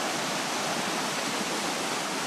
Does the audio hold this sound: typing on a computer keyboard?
no